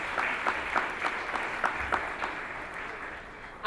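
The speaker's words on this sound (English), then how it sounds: "Let's give another round of applause to the entire Centenary Committee." Light applause for the Centenary Committee at a centenary gala, a thin patter of scattered claps at moderate distance that thins and fades toward the end.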